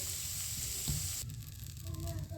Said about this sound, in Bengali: মশলাটি একসাথে মিশিয়ে ভালোভাবে ভেজে নেবো